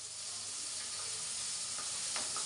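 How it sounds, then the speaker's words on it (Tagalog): Food fries in a pan on a stove, giving a steady, close hissing sizzle with a few faint pops and crackles, no talking over it. "Ayan, malapit na po maluto ang ating prito."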